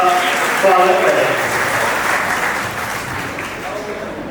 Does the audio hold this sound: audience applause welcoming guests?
yes